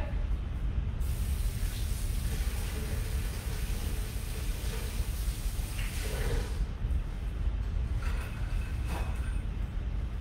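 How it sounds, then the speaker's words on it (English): Kale rinsed under running kitchen tap water: a steady, close, hissing spray of water streaming continuously throughout, with faint shifts as the leaves are moved under the flow. "Let me rinse real quick."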